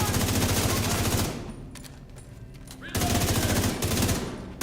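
Sustained rapid turret fire in The Division 2 rattles loudly in dense bursts, drops away for a stretch of quieter scattered clatter, then resumes with heavy continuous automatic shooting.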